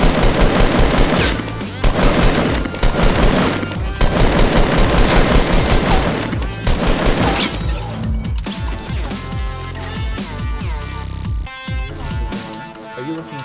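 Loud, rapid bursts of gunfire fill a Fortnite match, with dense automatic shooting for several seconds followed by scattered shots and impact crashes over game music.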